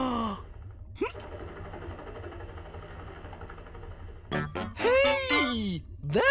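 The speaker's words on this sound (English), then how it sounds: "That's the sound of a helicopter!" Buzzer toy making a droning, whirring helicopter-like hum that runs steadily for a few seconds, with a cheerful, excited voice breaking in over the top toward the end.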